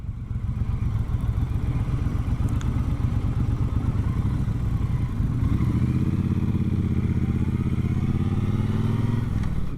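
A 2018 Harley-Davidson Sportster 1200 is ridden, its engine giving a loud, steady throbbing rumble close by that deepens and shifts as it changes pace midway.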